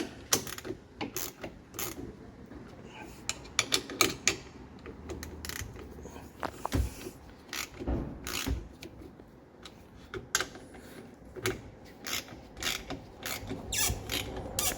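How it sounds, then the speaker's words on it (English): Ratchet wrench clicking in quick bursts while bolts of a Mopar brake air deflector kit are torqued down on a Dodge Challenger, a close, dense mechanical rattle that starts and stops repeatedly. "So I'm just gonna torque them down"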